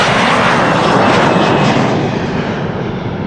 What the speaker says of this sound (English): Parallel departures have now begun and are expected to remain in progress until approximately 1 p.m.